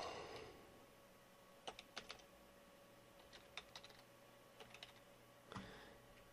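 Faint keystrokes click on a computer keyboard in short scattered bursts over a steady background hum, with no talk.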